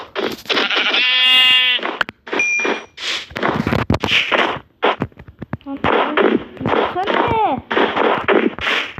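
Video game audio of a sheep being killed: a bleat followed by sharp hit and clang effects, mixed with a player's lively speech throughout.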